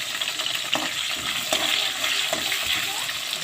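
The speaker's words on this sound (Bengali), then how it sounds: "এই আলুটা আমি একটু লাল লাল করে ভেজে নেব।" Cut potatoes frying in hot oil with black cumin seeds, a continuous close sizzle with a few soft stirring scrapes, no talking.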